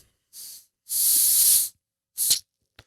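A voice imitating the hiss of a slightly open pop bottle: three breathy hissing bursts, the middle one longest, close and fairly loud with short silences between.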